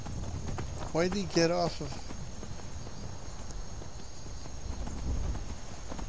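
Faint hooves clip-clop from a horse in the Skyrim video game, soft and sparse beneath a brief stretch of talk over quiet ambient game background.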